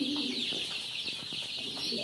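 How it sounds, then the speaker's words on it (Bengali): A crowd of about 220 Tiger chicken chicks on a poultry farm keeps up a constant, faint chorus of high peeping and soft clucking, with little change over the short stretch. "এখানে 220 টাইগার মুরগির বাচ্চা আছে"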